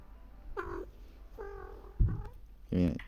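A cat meows several times in a row, with short, fairly quiet calls and a low rumble beneath them, over a quiet room.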